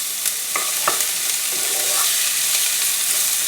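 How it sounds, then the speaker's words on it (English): Chopped onions sauté in olive oil in a pan with a steady, broad sizzle, broken by a few soft scrapes of stirring, close and fairly loud. "we're going to saute these onions in this olive oil, and until they're translucent"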